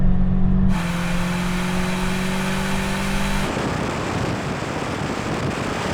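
A VW Golf GTI 16-valve engine accelerates hard, a loud, close mid-pitched engine drone holding for a few seconds before giving way to a rougher, broadband roar.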